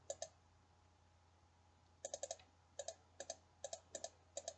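Someone types on a computer keyboard in quick clusters of light clicks, a short burst and then several more groups of keystrokes after a pause, faint against a low steady hum and with no talking.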